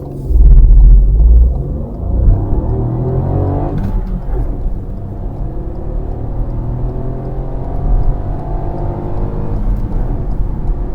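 A 2018 Ford Fiesta accelerates hard from a standstill, a loud low engine rumble and rising whir building through the gears, steady and close with no talking.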